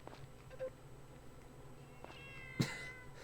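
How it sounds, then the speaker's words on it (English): A gray cat meows in the farming video game Story of Seasons: Friends of Mineral Town, giving a couple of short, soft mews and then one sharper meow near the end over quiet game background. "That looks and sounds like my cat."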